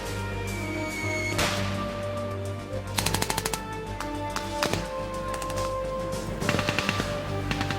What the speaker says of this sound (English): An enemy mortar attack triggers the fight.